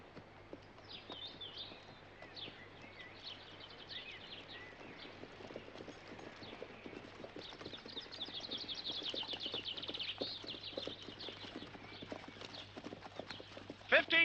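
Horses' hooves clip-clop steadily as a horse-drawn coach rolls along, a continuous rhythmic patter with faint bird chirps in the background.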